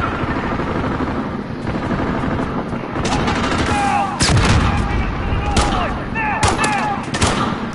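Busy battlefield in Call of Duty with rockets launched from atop a tank amid sustained gunfire, explosions and booming impacts, dense and loud throughout with sharp bursts clustering in the latter half.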